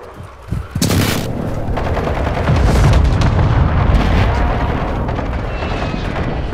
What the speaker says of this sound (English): Friendly VSO inbound. Precision airstrike.